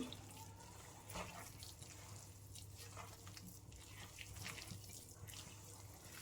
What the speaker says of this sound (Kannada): ಈಗ ಸ್ವಲ್ಪ ಸ್ವಲ್ಪ ನೀರನ್ನು ಸೇರಿಸ್ಕೊಳ್ಳೋಣ ನಾವು